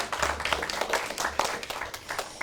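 Audience clapping for a winner at the 2022 Korea Beauty Brand Awards ceremony in an indoor hall, a dense patter of hands over a low hum, steady and fairly close.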